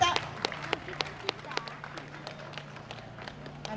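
Audience at an outdoor traditional arts festival clapping after an Awa Odori dance stage, a sparse, uneven patter of individual claps at moderate distance, fairly faint, with a low steady hum underneath.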